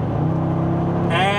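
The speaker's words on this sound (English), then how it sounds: "So I'm going to press the throttle down now" A Mercedes SL55 AMG pulls hard from highway speed, its engine note swelling steadily and loud under continuous road and wind rumble, with a higher whine rising near the end.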